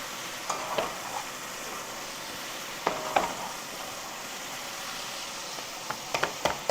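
Curry slurry cooking down in a pan gives a steady, soft sizzle with a few sharp stirring clicks and scrapes scattered through, all fairly quiet and close.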